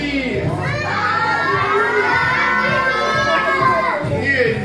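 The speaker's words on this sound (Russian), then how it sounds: "Все громко-громко кричат свои имя" A group of children shouts loudly together in unison, a dense, sustained crowd of young voices cheering and yelling up close for several seconds at a party with characters.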